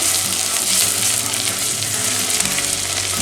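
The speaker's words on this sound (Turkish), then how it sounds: "yarım çorba kaşığı salçayı koyup bir müddet pişiriyoruz salçayı da" Half a tablespoon of tomato paste fries in a pan for meatball stew, a loud, steady sizzle and crackle throughout with no voices.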